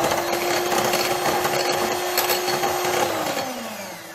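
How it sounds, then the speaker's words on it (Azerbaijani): An electric hand mixer beats egg yolks with cream cheese and sour cream in a bowl, a steady, close motor whine that holds even throughout and then slows and drops in pitch near the end, with no talk. "Mikserlə işimiz bitir."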